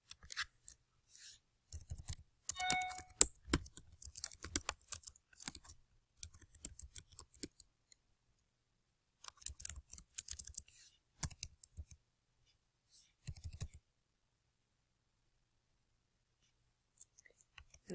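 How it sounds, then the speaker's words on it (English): Quick bursts of clicking keystrokes on a computer keyboard come in uneven runs with short pauses between them, close and fairly soft, then the tapping trails off into quiet. "I'm going to type my email address in here."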